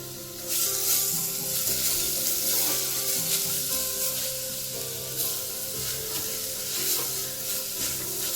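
Papaya frying in hot ghee in a pressure cooker gives a steady, hissing sizzle with faint scraping and stirring sounds, continuous and close.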